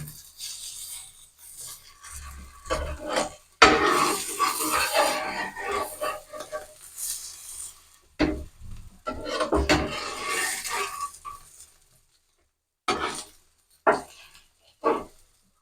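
Pieces of fried egg omelette being turned over in a pan, with intermittent scraping and clattering of a utensil against the pan in short bursts separated by quiet pauses.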